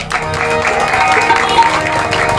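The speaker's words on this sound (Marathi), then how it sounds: "त्यांच्याकडे जोरात टाळ्या वाजवा" An audience at a village bhajan stage event in Rajapur applauds steadily, with dense clapping and some crowd noise sustained throughout.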